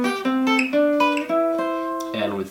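Guitar scale played in sixths, a rising run of paired notes plucked one after another, close and clear with no talk over it.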